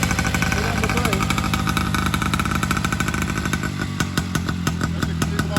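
A 1950 New Hudson Autocycle engine runs at speed with its back wheel spinning, a loud, close, steady buzzing drone whose firing turns slightly uneven toward the end, with people talking over it.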